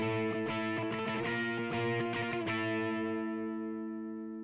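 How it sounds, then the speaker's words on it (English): Distorted electric guitar power chords strummed in a quick rhythmic pattern, then one chord left ringing out and slowly fading. "And if we do that with like power chords."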